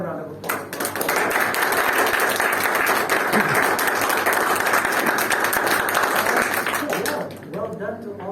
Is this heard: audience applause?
yes